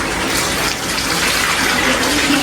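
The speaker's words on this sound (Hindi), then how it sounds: "अभी इसके अंदर मैं ऐड करूँगा पानी, क्योंकि शोरबे वाला बना रहा हूँ मैं सालन।" Water pours in a steady heavy gush from a jug into a pot of shorba-style curry (salan), loud and close, without talk.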